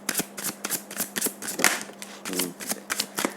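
Tarot cards are shuffled and drawn by hand, a quick run of crisp riffling flicks and snaps in uneven bursts, close and fairly loud, with a faint voice murmur underneath.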